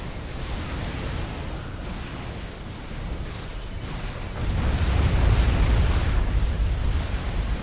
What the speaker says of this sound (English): Artillery shells just landing all over last man's base.